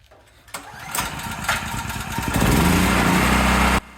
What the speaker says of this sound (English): I'm going to leave the switch in the run position and pull start it.